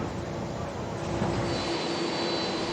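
A jet airliner carrying the Pope's entourage on arrival in Baghdad gives a steady, loud, broadband engine roar that holds without pause throughout.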